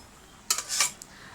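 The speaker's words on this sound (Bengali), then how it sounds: "এখন ঢাকনাটা তুলে নিব" A metal lid lifted off a cooking pan of sautéed greens gives a brief cluster of light metallic clinks and scrapes lasting about half a second, close and fairly quiet, with no voices.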